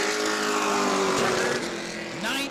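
A sportsman race car finishes its qualifying lap at New Smyrna, its engine roaring loud and steady with a rising then falling pitch as it passes, a second engine note creeping in near the end.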